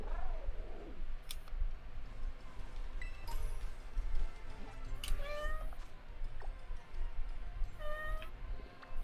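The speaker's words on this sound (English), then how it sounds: "Was that a cat?" A cat meows several times in a Pokémon Scarlet game scene, a series of short, clear mewing calls spread across the clip over a steady busy background, with no talking.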